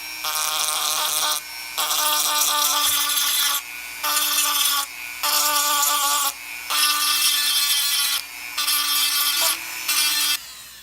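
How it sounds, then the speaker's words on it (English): A Dremel rotary tool fitted with a small cone-shaped sanding bit grinds down a plastic model-kit part, its high whirring buzz running in repeated bursts of one to two seconds separated by brief pauses, loud and close. "So here's my Dremel, and I just have a just a little cone-shaped sanding bit on there."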